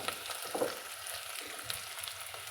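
Masala for a kurma egg curry fries in a pan and is stirred. The soft, continuous sizzle is faint and close, with a few light scrapes and no talking.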